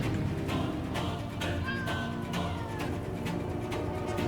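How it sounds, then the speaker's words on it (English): Cat-like creatures in the video game Satisfactory meow and wail in drawn-out cries over a busy, steady game background, several calls overlapping at mid distance. "I'm hearing so many cats now."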